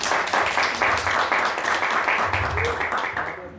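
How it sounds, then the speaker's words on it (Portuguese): A church congregation claps in a rhythmic, pulsing pattern during a family worship service, with a voice carrying over the clapping throughout. "E as palmas louvam o Senhor."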